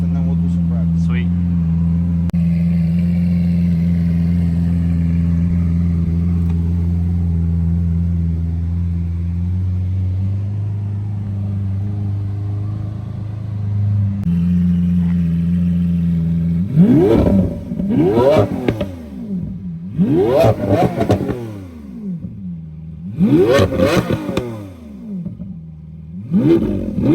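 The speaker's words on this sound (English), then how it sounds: "let's let it warm up for a few minutes and then we'll do some revs" A Lamborghini Aventador idles with a smooth, deep warm-up drone for about sixteen seconds, then is revved hard in five sharp, loud bursts, each climbing steeply and falling back, with brief idle gaps between.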